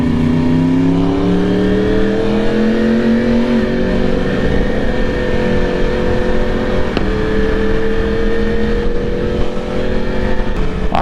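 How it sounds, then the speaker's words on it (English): Yamaha R1 and R6 sport motorcycles ride together on the road, a loud, continuous exhaust drone holding a steady pitch close to the mic, with a slight pitch change early on and wind rush throughout. "let's listen to some sweet, sweet sounds of the R1 exhaust. And the R6 if you can hear it."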